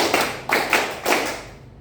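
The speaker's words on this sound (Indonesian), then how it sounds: "Kalau tepuk 5, prok prok prok prok prok" A classroom group claps together in rhythm, a few sharp, close, unison hand claps spaced evenly and then fading into quiet.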